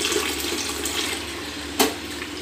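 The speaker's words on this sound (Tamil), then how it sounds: "அதே மாதிரி 1 லிட்ரு தண்ணி சேர்த்துக்கலாம்" Water poured into milk in a pot while making a semolina almond kheer, a steady continuous splashing pour running throughout, close and fairly quiet with no talk.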